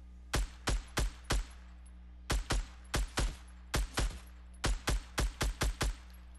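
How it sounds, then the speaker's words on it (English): Gunfire in the Fortnite battle royale video game: sharp shots in quick bursts of three to four, repeating in several clusters, fairly quiet and with no talk over them. "Someone else is shooting."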